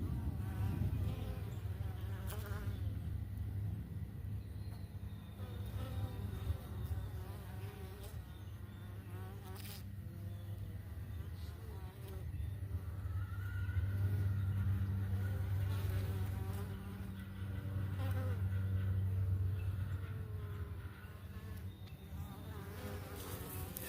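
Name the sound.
Italian honey bees buzzing at hive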